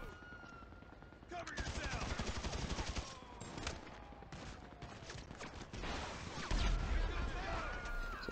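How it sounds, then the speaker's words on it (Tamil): Weapons fire in GTA V gameplay, rapid bursts of gunfire with a rocket launcher in the mix, loud and dense throughout with heavier booms near the end, and speech-like game voices mixed in. "சின்சான் பார்த்தீங்கன்னா அது கையில் இருக்கிற ராக்கெட் லான்ச்சரை வச்சு எங்களுக்கு வந்து ஹெல்ப் பண்ணிகிட்டு இருக்குது"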